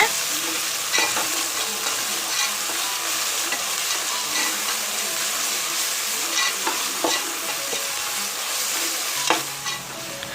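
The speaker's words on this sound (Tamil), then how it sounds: "இப்போ இஞ்சி பூண்டு விழுது சேர்த்து அந்த பச்சை வாசனை போகிற வரைக்கும் நல்லா வதக்குங்க." Onion, green chili and ginger-garlic paste sizzle steadily in a pan while being stirred for potato peas pulao, a loud continuous frying hiss with occasional scraping strokes throughout; no talking.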